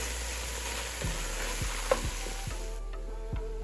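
Okra, corn and tomatoes sauté in a pan with a soft, steady sizzle, punctuated by several distinct scrapes and knocks as the vegetables are tossed and stirred, close and fairly quiet.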